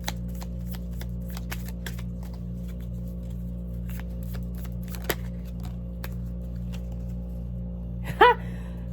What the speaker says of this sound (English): I'm going to pull a Dream Goddess Empowerment card for the collective